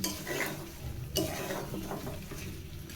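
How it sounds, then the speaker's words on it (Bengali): A spoon scrapes and clinks against a pot as potatoes are stirred into beef curry, soft repeated scraping with one sharper knock, fairly quiet. "এগুলো মাংসের সাথে হালকা করে নেড়ে চেড়ে মিশিয়ে দিব, যেন মাংসের মধ্যে মশলাগুলো পৌঁছে যায়"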